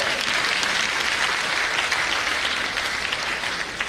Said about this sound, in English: Come on, if you are clapping, do it better.